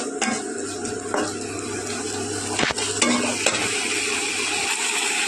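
Tomato paste frying in a pan for ghugni: a loud, close, crackling sizzle with spoon scrapes and metallic clinks against the pan as it is stirred, without talk.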